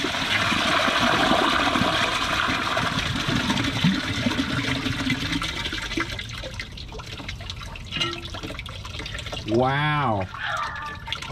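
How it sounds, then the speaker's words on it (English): A toilet flushes thick tissue paper in a long rushing swirl of water that fades into trickling refill, with a voice exclaiming briefly near the end. "Look at this thick tissue thing here. Let's see if it flushes."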